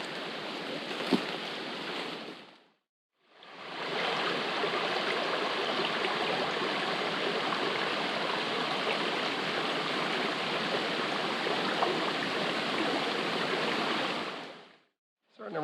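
River water pours steadily over rock dams, a broad continuous rushing wash that starts, breaks briefly, then resumes and holds before cutting off.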